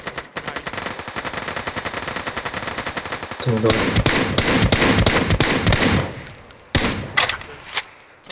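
Rapid automatic gunfire in a shooting video game rattles steadily, then swells into louder, denser bursts with sharp separate shots near the end, while a player briefly speaks.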